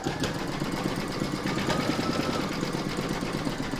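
A sewing machine stitches a fabric letter onto a coaster, a steady rapid needle rattle and motor hum running continuously and close at moderate volume.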